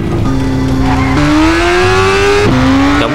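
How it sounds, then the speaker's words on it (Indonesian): Cartoon jeep-style motorbike revving and pulling away, a loud close engine whine rising in pitch with sharp gear-change breaks and tire-squeal tones, no voices. "Naik. Motor Jeep ini."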